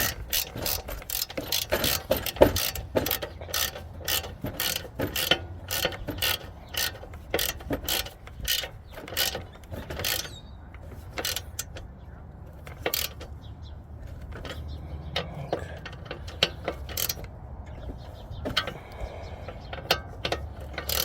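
A ratchet tightens a bolt during an automatic transmission replacement on a Honda D16Y5 engine. Quiet, uneven runs of sharp clicks repeat throughout with short pauses between strokes, heard close up.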